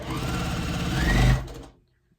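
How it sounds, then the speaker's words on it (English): A sewing machine stitches pieces of fabric together in a fast, steady mechanical run that swells slightly near the end before stopping abruptly into silence. "And then we will sew those up."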